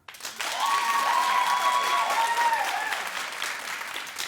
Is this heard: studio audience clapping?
yes